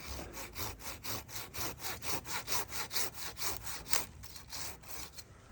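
A hand saw cuts through a fruit tree branch while pruning, with about twenty even back-and-forth strokes that rasp close by in a steady rhythm and no voices.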